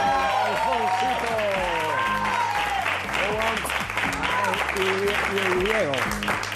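Studio audience on a Spanish TV game show breaks into sustained, loud applause lasting several seconds, layered over a music bed with a few voices briefly calling out.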